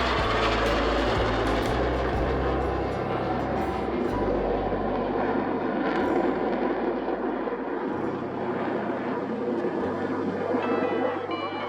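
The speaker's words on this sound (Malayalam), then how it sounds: "വീണ്ടും ആ രണ്ട് ഫൈറ്റർ ജെറ്റുകൾ ആകാശത്ത്." Two fighter jets pass overhead during a Navy Day final rehearsal, a steady, loud, broad roar that fills the whole stretch without pause.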